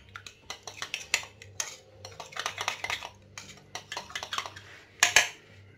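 A sauce for savoury Ramadan pastries is mixed in a dish, producing a rapid run of close utensil clinks and taps against the bowl, with a brighter metallic clatter near the end.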